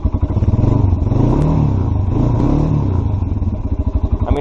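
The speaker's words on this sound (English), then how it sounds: "Listen to that exhaust. Now that sounds just awesome." A 2016 Kawasaki Brute Force 300 ATV engine revs close up, its exhaust rising and falling in a rhythmic throaty pulse over a loud, steady idle that dips back between blips.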